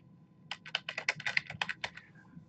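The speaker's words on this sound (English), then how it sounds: "So I'm typing in my full name here." Fast, close typing on a computer keyboard, about a dozen crisp clicks in a quick uneven burst, with quiet room hum underneath and no talking.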